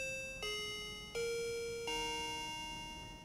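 An Arlec DC681 wireless door chime rings three clear tones in a descending sequence, each bright note ringing on and slowly fading, close and alone.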